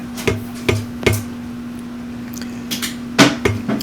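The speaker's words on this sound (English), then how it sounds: "I'm using a socket to try to tap that in." A socket used to tap a top-loading washer's motor coupler onto the transmission shaft, a handful of sharp knocks in two small clusters over a steady low electrical hum, close by.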